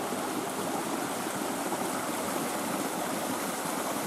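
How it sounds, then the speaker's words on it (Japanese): Steady rushing of a narrow, fast-flowing river with a strong released flow, a constant broadband wash that stays even and close throughout with no voices. "まあ、こういった川です。"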